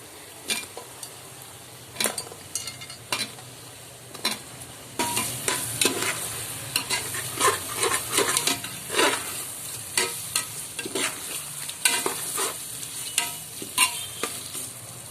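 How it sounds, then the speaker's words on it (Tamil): A ladle stirs chicken biryani masala with tomatoes in a pot, each scrape and clack sounding over a soft background sizzle in an uneven rhythm of close, moderately loud strokes. "அடி பிடிக்காத அளவுக்கு நல்லா கரண்டி விட்டு கலரிக்கணும்"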